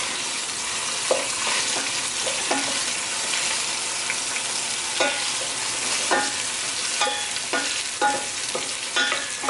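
Ratatouille vegetables with dried oregano and pepper flakes frying in a pan, a steady close sizzle with repeated scraping stirs of a utensil across the pan, alone without talk.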